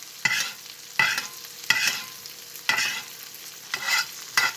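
Honey garlic chicken with fresh garlic sizzling in a frying pan as it is basted, with repeated spoon strokes scraping and splashing in a steady rhythm of about five bursts over a constant hiss, close and clear.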